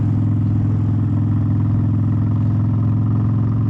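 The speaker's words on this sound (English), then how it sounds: "I like the way the bike sounds." A Harley-Davidson Softail motorcycle engine runs steadily at a loud, close idle, with a deep, even lumpy throb and a faint mechanical clatter throughout, no voices.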